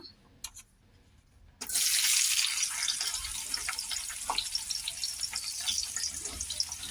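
Finely chopped onion drops into very hot oil for chilli potato and sets off a sudden loud, steady sizzle that keeps going, after a few quiet clinks and scrapes.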